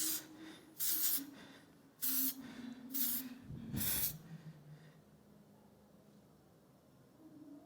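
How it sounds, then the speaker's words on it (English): Texture spray hisses from an aerosol can onto a model's hair in several short close bursts, one after another, over a quiet low hum, at a fashion weekend event. "A little texture spray in the hair."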